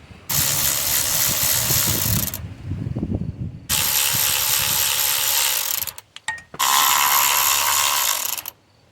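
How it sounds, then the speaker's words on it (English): A ratchet works loose 12mm bolts on a Hyundai engine during a timing chain and head gasket job, in three long bursts of loud, rapid whirring clicks with short pauses between, close and without talk. "You also can start removing the bolt from the bottom if you want to."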